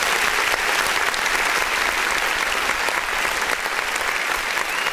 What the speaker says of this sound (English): Come on, clap button.